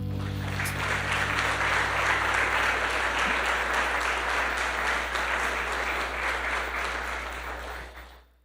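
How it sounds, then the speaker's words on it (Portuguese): A church congregation applauds after a closing prayer, steady clapping over a held keyboard chord that stops partway through, then the applause gradually tapers off and fades out. "Dá mais um aplauso ao Senhor"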